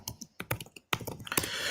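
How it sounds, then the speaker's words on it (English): Keystrokes on a computer keyboard come in quick, uneven bursts of close, crisp clicks with short pauses between, and no voice over them. "if you hear me typing, it's because I'm just checking the prices"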